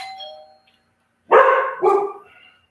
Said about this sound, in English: we had somebody come to the front door, and our dog is excited about that